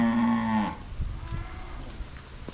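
A cow on a Vietnamese cattle farm gives one loud, close, sustained moo that cuts off abruptly, leaving quiet shuffling and farmyard background.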